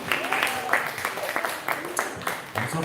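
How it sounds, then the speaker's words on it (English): An audience at Shoma Christian Academy claps for Rodney, the applause rising in a loose burst of hand claps under a speaking voice. "Let's clap for Rodney again."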